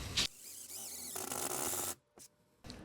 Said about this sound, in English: I'm gonna drill 1 hole